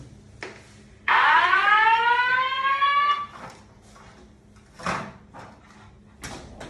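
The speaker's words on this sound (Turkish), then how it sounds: "Bu bir yangın alarmıdır." A fire alarm siren sounds during testing, with a loud rising electronic wail that holds for about two seconds, then a few shorter clicks and bursts follow in a quiet room.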